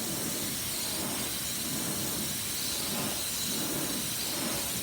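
A steady, close, continuous hiss of paint spraying from a spray gun for several seconds with no pauses.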